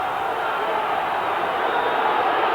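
Halifax rugby league supporters cheer on their side against Leeds, a continuous broad roar of a large crowd, loud and even for a couple of seconds.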